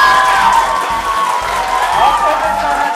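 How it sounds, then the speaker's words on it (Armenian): A crowd of children and adults at a quiz game show claps steadily, loud and continuous, with some cheering mixed in. "ծափարում է"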